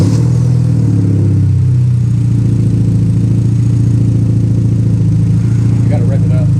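A turbocharged 2013 Hyundai Genesis Coupe fitted with an RFL blowoff valve drones close by, its engine holding a steady low hum that climbs slightly partway through, with no distinct valve whoosh standing out.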